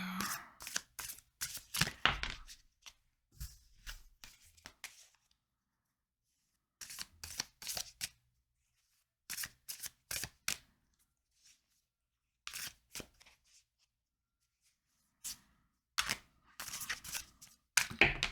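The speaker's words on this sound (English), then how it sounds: "These are hard to shuffle." Bursts of tarot card shuffling come in short riffling clusters separated by quiet pauses, close and fairly soft, with no talking.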